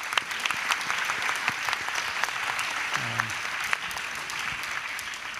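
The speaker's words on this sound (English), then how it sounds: "Please give Yuan Yuan a round of applause." A forum audience applauds steadily, dense clapping at an even level from start to finish, with a brief voice breaking through midway.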